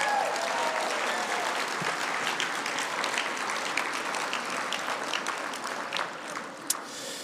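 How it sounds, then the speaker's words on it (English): A crowd applauds at the Wing Luke Museum's 2022 auction gala, sustained dense clapping filling the room for several seconds, loud and even, with a few sharper claps near the end. "one more time, round of applause."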